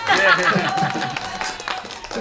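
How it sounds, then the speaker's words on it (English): A live talk-show audience applauding a beatbox performance, a dense wash of clapping with a host talking over it near the microphone. "I'll give you another applause for that."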